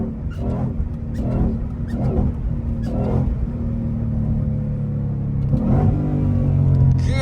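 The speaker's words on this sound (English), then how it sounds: "That was a mean downshift." A Shelby GT500 engine rumbles steadily while blipping revs in quick successive bursts on a downshift, then settles into a deep, loud drone close to the listener.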